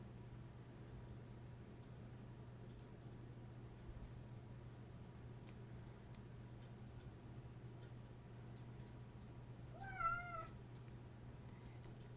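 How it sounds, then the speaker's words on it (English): A single short meow sounds once near the end, fairly faint and at a distance, over a quiet room with soft ticking in the background. "You guys hear my cat, Beta Cat?"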